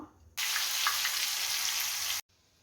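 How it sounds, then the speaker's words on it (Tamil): Homemade French fries deep-frying in hot oil give a loud, steady sizzle that starts abruptly, holds for about two seconds and cuts off, with no talking. "இப்போ நம்ம ஃப்ரை பண்ணி எடுக்கலாம்."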